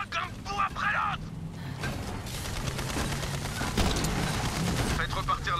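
Gunfire in a Borderlands 3 co-op match, rapid automatic bursts and rattling shots running steadily through the clip, mid-loud, with French voices talking over the shooting at the start and end.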